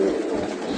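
A pigeon at a Baku pigeon club coos softly and close by, a short low murmuring call heard alone.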